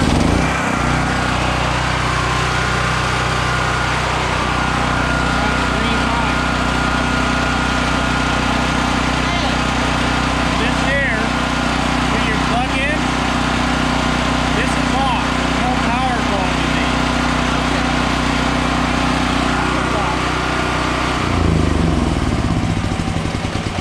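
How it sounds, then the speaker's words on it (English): A Firman dual fuel generator engine runs in a loud, steady, close drone for nearly the whole stretch, with a brief change near the end. Faint sounds and voices sit underneath it. "I have the start button. It should start right up."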